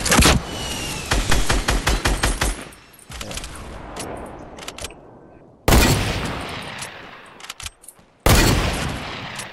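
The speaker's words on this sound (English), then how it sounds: "Yeah, there's people shooting us from behind." Fortnite gunfire in rapid loud bursts of shots, one long volley followed by two sudden heavy blasts with decaying tails, no talk over it.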